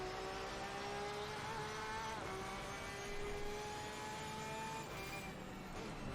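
Race cars in Assetto Corsa Competizione on console hold a steady, close engine drone with rising and falling pitch, several cars layered together and running without a break and with no talk.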